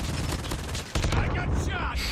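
Dense bursts of rapid automatic gunfire rattle through a Call of Duty multiplayer Hardpoint match, loud and continuous, with a sharper burst of shots near the end and game noise behind.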